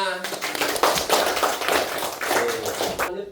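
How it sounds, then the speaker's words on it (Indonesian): Children clapping their hands in a classroom, a dense burst of overlapping claps carrying on steadily for about three seconds before cutting off, with voices mixed in. "Tepuk tangan untuk kita semua."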